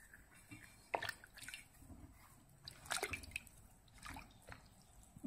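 Leather for a knife sheath is dipped into hot water, giving scattered drips, splashes and wet squishes, faint and close with irregular timing.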